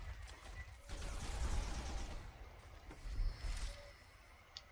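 A gunner unit fires in the strategy game Civilization: Beyond Earth with its Rising Tide expansion, giving a rattling burst of gunfire followed by a second shorter volley, at moderate volume.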